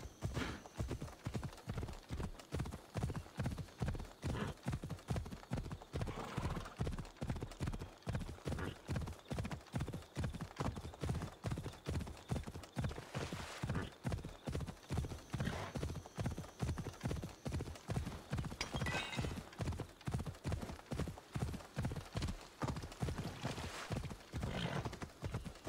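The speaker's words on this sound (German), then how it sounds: "Nehmen unser Pferd, dann geht's schneller." Continuous rhythmic hoofbeats of a horse galloping in the video game Assassin's Creed Odyssey, steady and close, with faint whinnies and occasional background sounds mixed in.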